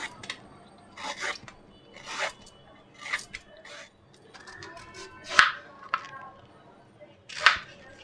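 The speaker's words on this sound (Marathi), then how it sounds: "साल काढून घेते आधी कैरीची" Skin is peeled off a raw green mango in a series of short rasping strokes, roughly seven, close and fairly crisp, separated by brief pauses.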